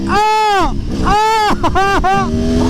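A modded Yamaha MT-09 motorcycle engine accelerating hard, loud and close, climbing in pitch through three quick revving pulls with brief drops between gear changes.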